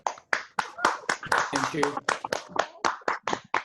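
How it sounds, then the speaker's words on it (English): Irregular claps from online meeting participants at a Toastmasters birthday meeting, close and uneven bursts of hand clapping with a voice speaking briefly over them. "Can we all unmute ourselves and have a round of applause for Deepak sir?"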